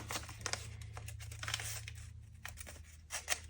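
Strip of gummed paper tape torn by hand while decorating a junk journal page, a few quiet ripping and crinkling bursts close up in a hushed room.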